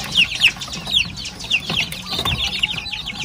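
Small native chicks peep in a steady chorus of high, repeated chirps with soft clucking, fairly close and continuous throughout, with no talking.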